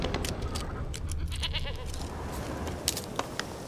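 Goat bleating in The Witcher 3 video game, several wavering bleats close up over a farmyard ambience, followed by a few light knocks.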